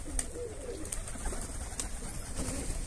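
A runaway pigeon gives soft, low coos close by against a steady background hum, with a few faint higher chirps mixed in.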